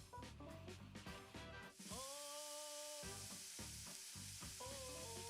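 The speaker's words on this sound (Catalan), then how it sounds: "Anem tirant, que la ceba veureu que anirà demanant, anem sofregint a poc a poc, a poc a poc." Onion sautéing slowly in oil in a casserole, a steady close sizzle and crackle with occasional stirring and tonal clinks, running continuously without speech.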